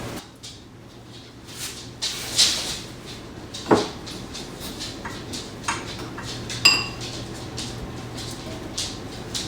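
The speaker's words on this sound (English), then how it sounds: "I'm gonna need to go find a bowl." Someone rummages through dishes and cutlery in a kitchen, producing scattered clinks, clatters and knocks at irregular intervals, close by and fairly loud, with no speech.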